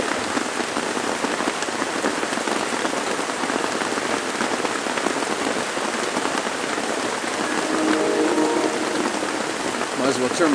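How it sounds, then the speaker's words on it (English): Steady rain pours down in a continuous dense patter on nearby surfaces, loud and even throughout with no break. "Come on, rain."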